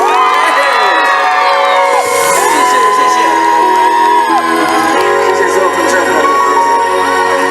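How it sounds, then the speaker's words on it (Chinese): A concert crowd at a Hakka cultural festival music concert in Taoyuan cheers and screams loudly and steadily, close and continuous throughout, with whoops rising over the din and background music. "给自己一个掌声加尖叫声。"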